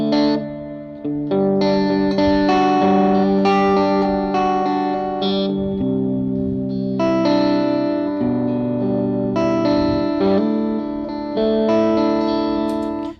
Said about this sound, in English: you get that really nice spring reverb with it